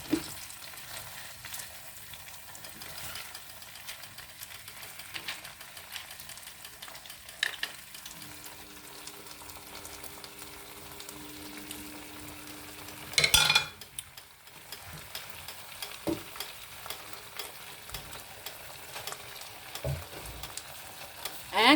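Seafood paella ingredients sizzle and simmer together in a pan with a soft, steady frying hiss, broken near the middle by a brief clatter of a utensil against the pan.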